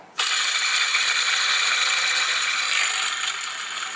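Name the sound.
noisy engine belt tensioner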